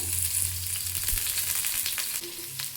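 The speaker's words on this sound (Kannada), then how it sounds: "ಇವಾಗ ಇದನ್ನ ಎಣ್ಣೆಲಿ ಸ್ವಲ್ಪ ಈ ಥರ ಬಾಡಿಸ್ಕೋಬೇಕು." Chopped onion and green chillies sautéing in hot oil for a palak egg masala, a close, bright, steady sizzle with occasional stirring scrapes and no voices.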